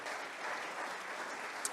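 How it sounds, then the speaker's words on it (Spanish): A church congregation breaks into warm, steady applause, a dense wash of clapping hands that holds evenly for the whole short stretch without any voices over it. "Las recibimos con un fuerte aplauso a ellas"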